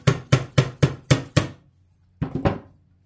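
A tiny flat screwdriver is tapped six times in a quick, even rhythm to pry windshield trim on a Dodge M37 restomod, then two more taps follow after a short pause, all close and sharp with no talk.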